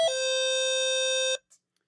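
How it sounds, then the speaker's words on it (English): A Synlett caregiver call button set to doorbell mode gives one steady electronic chime tone, loud and close, holding for over a second before cutting off, followed by a faint brief blip and then silence. "Just a one-time doorbell,"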